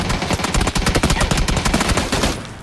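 Rapid automatic gunfire in the video game PUBG, a loud, close, sustained burst of evenly spaced shots that runs for over two seconds before tapering off.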